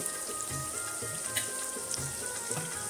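Ginger-garlic paste and finely chopped onion sauté in hot oil for an Agri-style mutton curry, giving a steady, close sizzle with a soft crackle and no voices.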